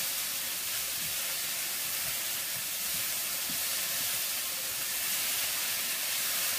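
Two pounds of ground beef browns in a pot with a steady, even, hissing sizzle that holds at a constant level throughout, no voices over it.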